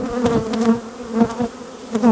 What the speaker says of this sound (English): I'm going to brush all these bees in here as best I can.